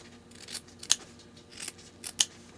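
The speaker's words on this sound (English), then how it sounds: "I'm just going to put 1 cut here, 1 cut here." Scissors snip through pool table cloth at a pocket, a few sharp close cuts spaced apart with soft rustling of the cloth between them.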